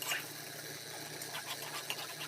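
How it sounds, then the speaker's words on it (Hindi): Water poured into semolina halwa roasting in a pan, a close, continuous hissing sizzle with bubbling texture for a couple of seconds. "अब हम इसमें पानी ऐड कर देंगे थोड़ा सा इस पॉइंट पे, वरना ये जल जाएगी।"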